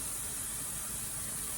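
A pressure cooker vents steam with a loud, steady high hiss that stays constant throughout, close by and unbroken.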